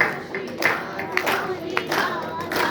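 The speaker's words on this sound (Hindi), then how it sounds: "थोड़ा जोर से ताली।" Rhythmic hand clapping from an audience at a Bhagavat katha, moderately close, with chanting voices over the clapping.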